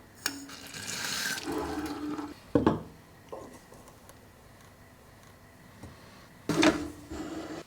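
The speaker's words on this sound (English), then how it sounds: "I can do that with a quick flush by just lifting the valve a little bit." Hot water flushing through the group head of an Olympia Cremina lever espresso machine, a hissing rush near the start and a louder burst near the end, with a sharp clunk of the valve in between.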